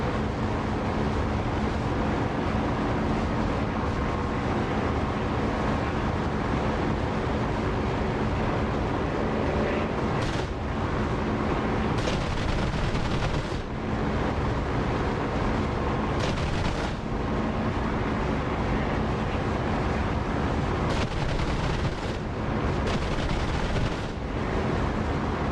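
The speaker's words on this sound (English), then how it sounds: "He's firing at me." Enemy gunfire in the DCS flight simulator, a dense, continuous roar of rapid shots and rumbling blasts that fills the whole stretch at steady loudness, with a few brief dips between bursts.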